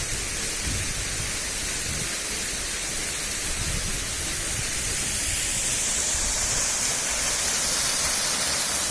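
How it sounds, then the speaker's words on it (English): A Scottish waterfall swollen after heavy overnight rain, just below a parked vehicle by the road at Mam Ratagan, roars with a steady, broad rushing wash, close and constant throughout with no voices. "This waterfall is just down from where we're parked at Mam Ratagan."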